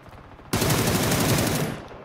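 Rapid automatic gunfire from a gun in PUBG on the snowy Vikendi map bursts in suddenly and stays loud and close for over a second before trailing off, with no talk over it.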